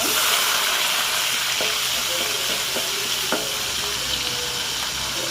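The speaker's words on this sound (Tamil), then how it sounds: "அரைச்சி வச்ச அரை வெங்காயம் இருக்குல்ல அதை ஆட் பண்ணிக்கிறோம்" Ground onion paste hits hot oil in a pan of chicken biryani, giving a steady loud sizzle with a few sharp stirring scrapes and clicks, and no talking.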